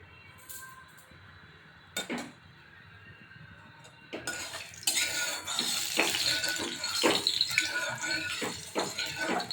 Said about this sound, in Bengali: এবার কড়াইটা বসিয়ে দেবো, কড়াইটা গরম হবে।